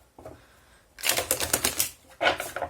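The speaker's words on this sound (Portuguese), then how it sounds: "Baralhar mais uma vez." A deck of tarot cards being shuffled close by, with bursts of rapid riffling and flicking clicks in two main runs separated by a short pause.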